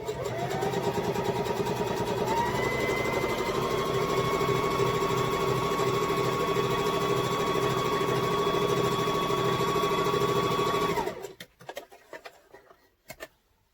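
A sewing machine runs steadily for about eleven seconds, a close, even mechanical whirr with a rising then level motor tone while stitching mask fabric, before stopping abruptly into near silence.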